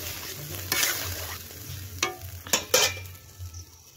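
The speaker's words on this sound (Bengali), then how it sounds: "এবার জলটা দিয়ে দেবো।" Spiced potatoes and vegetables sizzle in a pan as water goes in, with a steady fry hiss under a low hum and several sharp scraping stir strokes spaced through the clip.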